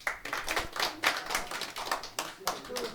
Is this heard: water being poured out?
no